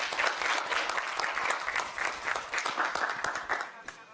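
A forum audience gives warm applause of hand claps to welcome a guest speaker, a former Gyeonggi provincial official, steady and fairly close with a few louder individual claps throughout.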